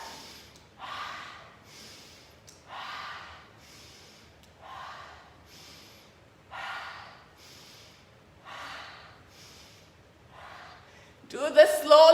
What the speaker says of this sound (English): framework breathing. Come on, let's do it together.